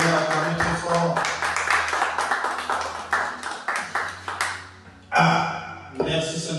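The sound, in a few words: congregation applauding loudly in a church service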